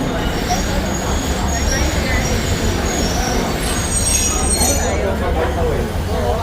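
Train on the Alishan forest railway in Taiwan, a steady rumbling roll with faint high wheel squeal, close and continuous under crowd chatter and voices.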